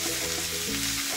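Meat and ingredients stir-fry in an overcrowded small frying pan, a loud continuous close sizzle with scraping stir sounds, no talk.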